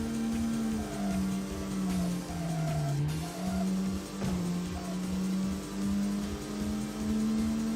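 Racing car engine in the Tokyo Xtreme Racer video game, a steady droning whine that dips and rises in pitch as the car brakes and accelerates, with a faint tire squeal.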